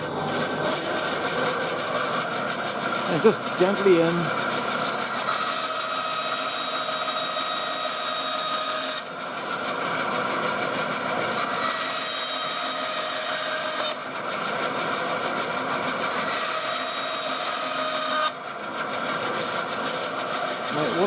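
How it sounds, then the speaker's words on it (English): A power saw cuts a wooden pen blank with a loud, continuous whining buzz that pauses briefly a few times as the cut proceeds; a person speaks briefly over it. "So cutting the blank, now I'll put gloves on for this bit because you're working close to a blade"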